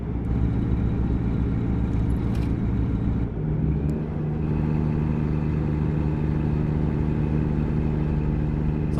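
A truck engine in American Truck Simulator runs steadily with a low, even drone and a brief dip partway through, loud and close with no talk.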